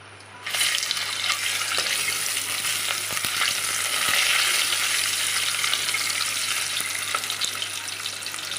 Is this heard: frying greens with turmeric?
yes